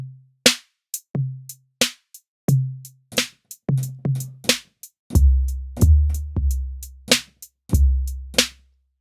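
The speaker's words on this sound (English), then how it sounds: "If you listen to the main 808" Programmed 808 drum machine samples from the 8Dio Soundpaint library's main output: sharp clicks and snares alternating with deep booming kicks in a steady, punchy beat, growing heavier with long sub-bass tails in the second half.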